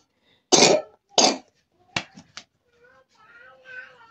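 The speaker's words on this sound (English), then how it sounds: "like my son was just coughing now." A child coughs twice sharply, followed by a few shorter coughs and throat clearing, then faint voices in the background.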